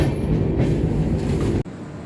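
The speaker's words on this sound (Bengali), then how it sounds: "ট্রেনটা কিন্তু খুব ভালোই যাচ্ছে, রাইট টাইম আছে, বেশ ভালো যাচ্ছে।" Jnaneswari Express passenger train running on Indian rail tracks, a loud, steady rumble and rattle of the carriage heard from inside, ending abruptly in a brief drop near the end.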